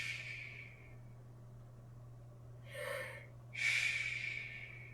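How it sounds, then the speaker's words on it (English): Slow, relaxed breaths during a seated at-home strength and relaxation exercise: a soft exhale fades out, then two breathy inhales or exhales follow close to the microphone over a low steady hum, with no talk. "Two relaxed breaths."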